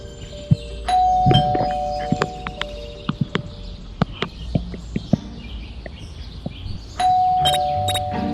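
A ding-dong doorbell rings twice inside the Scary Teacher video game, each chime a clear sustained two-tone ring, the first near the start and the second near the end, with scattered thumps and game sounds in between.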